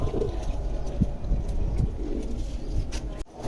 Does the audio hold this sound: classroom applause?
no